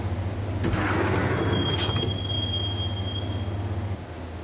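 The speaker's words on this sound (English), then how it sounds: "the train doors had already shut behind me, and I was in for the ride" Train ride in the video game Max Payne: a steady loud rumble of rolling wagons with a low hum, a thin metallic wheel squeal drawn out in the middle, then the rumble eases near the end.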